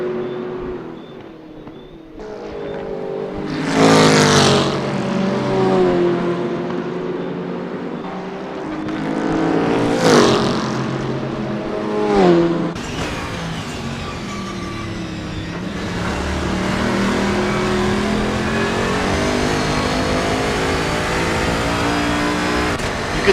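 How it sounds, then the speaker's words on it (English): A heavy GT3 race car's engine climbing the mountain section at Mount Panorama, Bathurst, revving hard through repeated rising gear pulls with brief lifts between, loud and close, continuing as a sustained high-load drone. "You can hear how heavy this car is to get back on the power through the mountain section on the climb."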